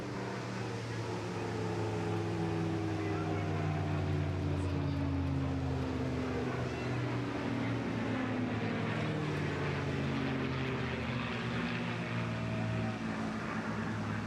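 A propeller aircraft flying past at the English Riviera Airshow, a loud sustained engine drone with slowly sliding pitch as it passes and departs, steady and close throughout with little else audible.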